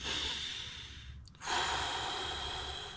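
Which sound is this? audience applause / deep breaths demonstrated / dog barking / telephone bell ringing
deep breaths demonstrated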